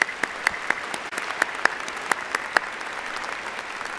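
Audience applause at a Colorado State University veterinary medicine commencement, following a brass ensemble and soloist's national anthem; steady crowd clapping with sharper individual claps standing out, moderately near and continuous throughout.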